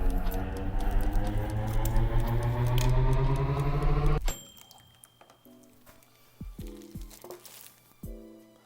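A triple-bagged plastic shipping bag holding live coral is cut open. A loud droning hum stops abruptly, followed by several sparse, crisp snips and crinkles of plastic.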